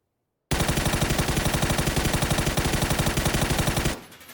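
M4 rifle on full-auto in the shooter game PUBG, a rapid, loud, evenly spaced burst of gunfire lasting roughly three and a half seconds with no talking.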